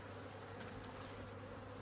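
Agitated, aggressive honeybees swarm around an open hive in a drone-laying colony as a queen is released, making a dense, steady buzzing that stays close and loud throughout, with no voices.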